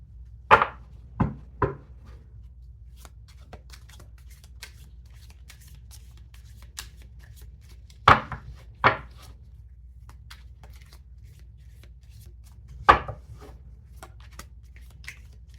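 Oracle cards for a love-message tarot reading, shuffled and pulled in brief close papery riffles and flicks, a quick cluster at the start and single bursts later, over a quiet steady background hum with no talk.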